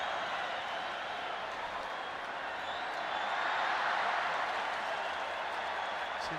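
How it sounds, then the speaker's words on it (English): Women's U-20 football match crowd, France versus Japan, making a broad, distant roar as fans try to start a Mexican wave, the rumble of cheering swelling gently around the middle and holding steady. "The crowd trying to get a Mexican wave going"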